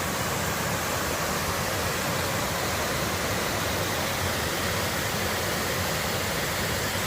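Little Wilson Falls in the 100-Mile Wilderness pours into a canyon, making a steady, dense rushing roar that stays constant throughout with no voices.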